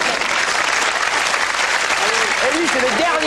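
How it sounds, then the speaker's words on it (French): A studio audience at a French TV comedy panel show applauds continuously and loudly, with voices starting to speak over the clapping near the end. "On peut l'applaudir."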